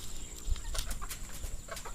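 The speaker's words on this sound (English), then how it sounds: "chickens" Chickens cluck among other farm fowl in a backyard pen with rabbits, guinea hens and ducks, soft repeated calls over a steady low outdoor rumble and scattered bird sounds.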